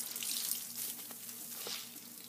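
Soft fizzing and trickling of water from a squishy toy that has been squished after soaking up water, a faint, close hiss with small crackles and no talk.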